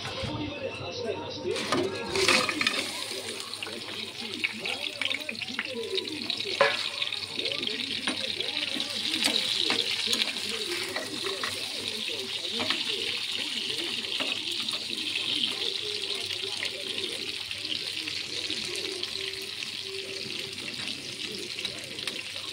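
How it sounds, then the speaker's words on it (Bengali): Crabs dropped into hot oil, sizzling and bubbling steadily for a long stretch, with someone talking now and then over the frying. "তেলটা গরম হয়ে গেছে, এবার কাঁকড়াগুলো ওর মধ্যে দিয়ে দেবো।"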